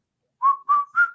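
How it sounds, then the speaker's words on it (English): Three short, clear whistled notes from a person, the last slightly higher, close and loud against silence. "Are you going to whistle for us?"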